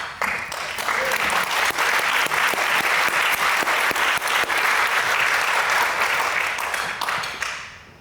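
Dense audience applause at an award ceremony, a steady wash of many hands clapping that starts abruptly, holds strong for several seconds and tapers off at the end.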